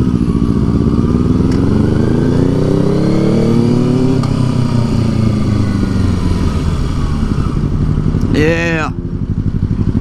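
Motorcycle riding on the road, its engine droning loud and steady throughout with harmonic pitch rising and falling as it revs, joined near the end by a brief rising whine, while someone talks over it.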